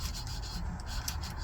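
A car part rubbed by hand with light to medium pressure on fine grit abrasive during a Civic timing belt job, giving a steady, close, continuous rasping scrape with no pauses.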